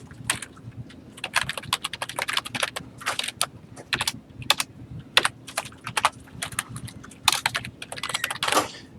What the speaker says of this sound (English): That's literally what I'm typing here.